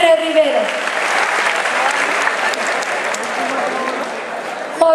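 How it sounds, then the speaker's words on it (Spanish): Loud crowd applause for a state governor at a school closing ceremony in Mexico, a sustained dense roar of clapping lasting the whole stretch, with a voice briefly heard at the start and end. "El aplauso más fuerte para nuestro gobernador"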